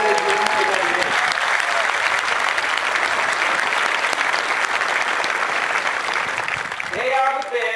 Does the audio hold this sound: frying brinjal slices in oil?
no